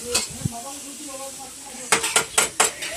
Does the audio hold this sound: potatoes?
yes